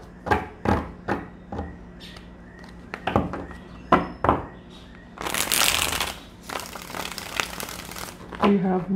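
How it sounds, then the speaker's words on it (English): Tarot cards are shuffled by hand in a quiet room, with a series of sharp riffling snaps followed by longer dense riffle bursts, close and crisp. "Okay, let's get two shuffles,"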